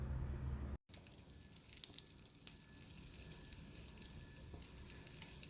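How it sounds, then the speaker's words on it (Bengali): Frozen paratha frying in a pan with no oil, a faint steady sizzle and soft crackle continuing after a brief cut, with an occasional small tap of a utensil and no talk. "ফ্রোজেন পরোটা দিয়ে দিয়েছি ভাজার জন্য"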